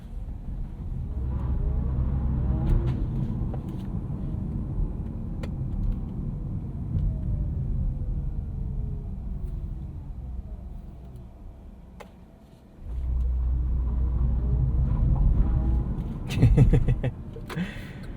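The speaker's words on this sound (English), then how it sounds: "Bolts are so funny in the way where they just spin tire like crazy." A 2022 Chevrolet Bolt EUV pulls away with traction control off in sport mode while its front tires spin, producing a low electric-motor whine and road rumble that drops off and then surges back, with a burst of rattling near the end.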